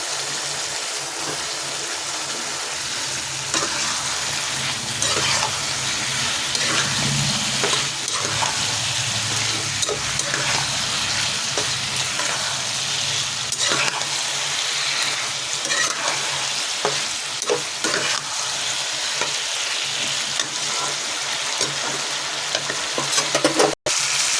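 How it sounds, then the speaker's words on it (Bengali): Lightly fried cauliflower goes into hot spiced oil and is stirred, giving a steady, loud sizzle with scraping and stirring sounds throughout and a sharp knock near the end. "এরপর দেবো ফুলকপিগুলি, যা অল্প ভেজে রাখা ফুলকপিগুলি।"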